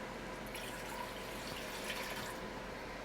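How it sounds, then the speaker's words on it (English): Water pours from a tap or jug into a Ninja Foodi pot to cook basic pasta, a steady close splashing fill that runs on unbroken with no talk. "I'm just going to go ahead and add 2 cups of water."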